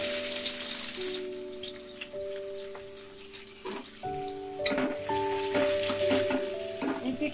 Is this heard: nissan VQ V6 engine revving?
no